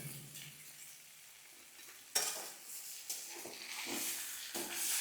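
Four green chilies frying and being stirred in a pan for a vegetarian cauliflower curry: a steady close sizzle with scraping stirs, growing louder and busier after the first couple of seconds.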